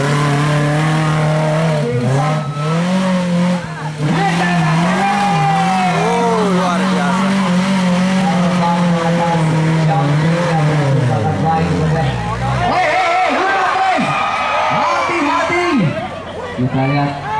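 An off-road racing car at a regional extreme off-road championship in Soppeng, South Sulawesi, restarts and revs hard in loud, rising and falling bursts, with a commentator talking over it and crowd noise around it.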